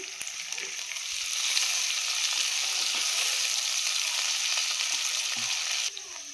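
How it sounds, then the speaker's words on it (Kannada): Onions and coriander leaves frying in a pan for biryani, a steady close sizzle and crackle that holds evenly for several seconds before dropping slightly at the end. "ಅಲ್ಲಿ ತನಕ ನಾವು ನೀಟಾಗಿ ಫ್ರೈ ಮಾಡ್ಕೊಬೇಕಾಗುತ್ತೆ"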